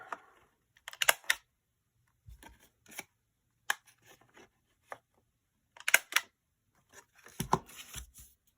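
A corner punch rounds the corners of paper for junk journal pouches, producing crisp, close clicks and papery crunches in short clustered bursts with quiet gaps between them.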